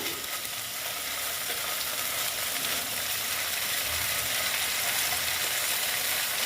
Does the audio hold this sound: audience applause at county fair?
no